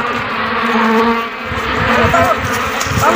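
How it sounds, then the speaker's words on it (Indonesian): Wasps buzz overhead in a rural Javanese village, a steady insect drone running continuously under scattered background noise, with faint voices present. "Mas, akeh tawon nang dukurmu lho."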